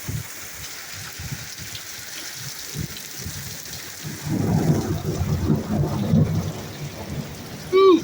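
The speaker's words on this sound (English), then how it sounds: "Powerful. A lot of wind, lightning, some hail." A thunderstorm in Ellenville, New York, with wind, lightning and some hail: steady rain patters throughout, then a deep rumble of thunder swells midway and rolls on for a few seconds, fairly close.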